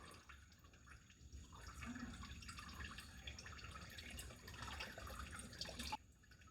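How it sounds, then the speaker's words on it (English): Engine oil from a Ford Mustang EcoBoost drips faintly and steadily into a bucket, a quiet patter of drops over low background noise with no talking. "it's going to drip out a little bit"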